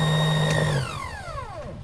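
A failing blender struggling with ice whirs at a steady pitch, then slows and winds down with a falling whine as it labors, no voices present.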